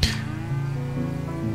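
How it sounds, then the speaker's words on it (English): A single cow in the GTA 5 video game, on a grandpa's farm, gives a long, close moo that holds steady for over a second, loud and clear with no voices over it. "So that's the cow of Timmy's grandpa."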